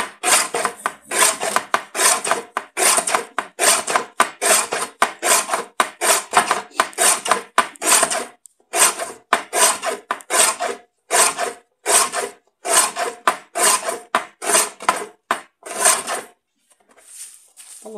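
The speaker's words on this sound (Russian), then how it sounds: "Вот у меня гильотина есть." Rapid repeated rasping strokes as a paper guillotine slices paper into strips, about a dozen quick cuts in steady rhythm, close and loud, then stopping.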